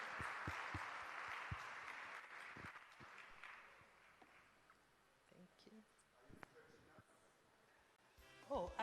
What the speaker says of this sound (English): let's all stand and give a round of applause to our panelists